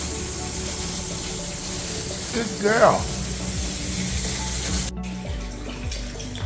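Water drains steadily from a guppy aquarium during a partial water change, a continuous rushing flow with a brief louder gurgling splash midway, while a voice speaks briefly.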